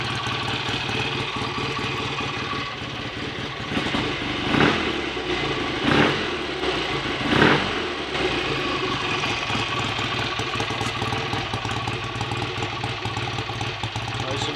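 A fully rebuilt BSA A65 Lightning motorcycle runs steadily after its first start, a loud, close, even engine note with three brief throttle blips partway through.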